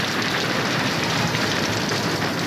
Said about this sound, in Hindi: ऊपर स्नोफॉल भी हो रहा है और यहाँ तो ओले गिर रहे हैं।